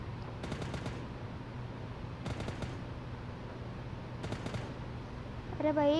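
Three quick bursts of rapid machine-gun fire from the video game PUBG Lite crackle at intervals over a steady low hum, with a brief electronic tone at the end.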